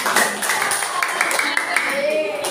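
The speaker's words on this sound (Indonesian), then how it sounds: "Tepuk tangan untuk kelompok." Brief classroom applause for a group of seventh-grade students who have just presented, a short burst of clapping hands from a class with voices talking over it.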